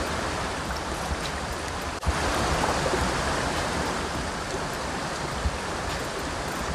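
Water in a stream flows steadily, producing a continuous, fairly loud rushing hiss that stays even throughout with no voices.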